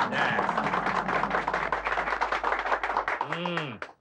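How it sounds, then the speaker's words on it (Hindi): Clapping from a group gathered at a hunger strike protest against the government in a Hindi TV drama scene: a steady flurry of hand claps, fairly close, ending with a brief voice. "तालियां।"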